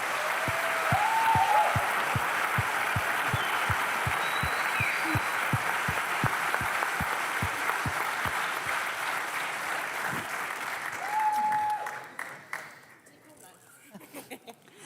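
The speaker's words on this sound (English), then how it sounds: "So please give them a big applause." Audience applause at a student founding contest final fills most of the span, joined by steady rhythmic clapping in time, with a few voices calling out over it, then fading out near the end.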